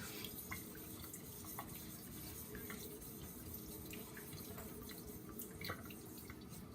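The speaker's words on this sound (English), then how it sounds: "I like to get a water stream that is not dripping" Tap water pouring as a thin steady stream onto a whetstone being lapped, a soft continuous splashing trickle with faint scattered drips, quiet and alone.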